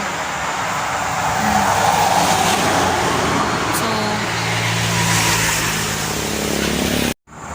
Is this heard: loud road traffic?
yes